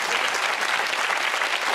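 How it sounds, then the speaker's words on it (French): A TV studio audience breaks into steady, dense applause, loud clapping filling the whole short stretch with no speech over it. "On peut applaudir ça"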